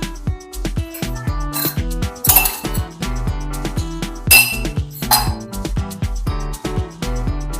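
Glasses and cutlery clink and chime repeatedly at close range while tea is made with milk, bright ringing strikes over a steady musical background.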